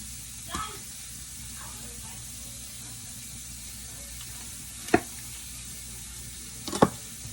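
Butter sizzles faintly in a pan, a low steady hiss broken by a few sharp knocks and clatters of utensils, with a voice talking over it.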